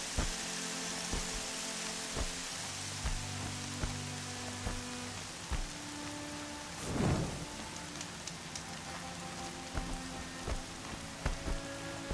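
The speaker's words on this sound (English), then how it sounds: "Rain's not so bad." Steady rain patters throughout a Horizon Zero Dawn game scene, with a low thunder rumble swelling near the middle over scattered droplet hits, no voices.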